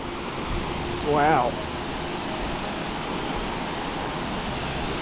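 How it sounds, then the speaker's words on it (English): Nelson Falls, a wide 35-metre waterfall in a Tasmanian forest, pours with a steady, loud broadband roar of rushing water from start to finish, while a voice briefly exclaims near the start. "Holy crap, that's a big waterfall."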